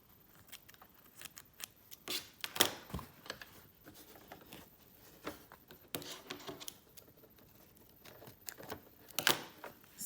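Scissors snipping a thread or piece off while sewing a buttonhole on a Singer Brilliance 6180 machine, a few sharp close clicks among faint rustling handling noise, quiet overall.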